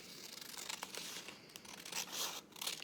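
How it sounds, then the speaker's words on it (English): Scissors cutting along a drawn line in a paper palm leaf, with close, soft crinkly snips and rustling paper over a few seconds and no talk. "And then you just cut along that line."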